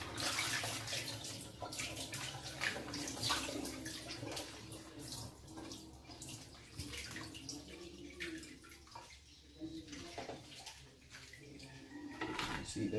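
Tap water runs steadily over a freshly caught lobster being rinsed out in a sink in Jamaica, a continuous splashing wash with light clatter, fairly close and alone without talk.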